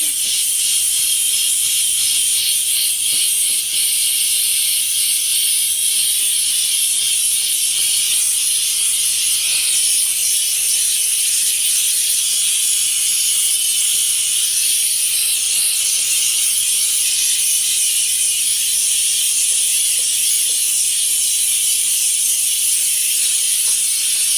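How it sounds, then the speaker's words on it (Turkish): A continuous bright hiss and rushing of water boiling, steady and loud throughout with no pauses. "Böyle de kaynıyor arkadaşlar. Kendini kaynamaya aldığı zaman"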